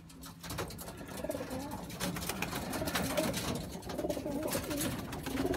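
A middle-distance racing pigeon, a federal ace cock in full moult, coos in low rolling calls close by, blended with a steady background rumble and faint rustling.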